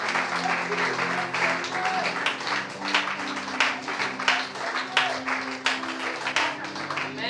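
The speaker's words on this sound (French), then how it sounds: "Acclamons Jésus." A church congregation breaks into sustained applause and clapping during a French-language sermon. The applause is dense and continuous, and a voice talks over it.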